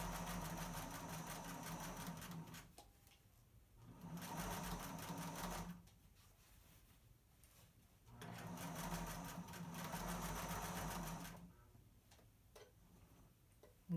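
A sewing machine stitches a banded tablecloth in three runs of fast, steady mechanical ticking, each a few seconds long, separated by quiet pauses.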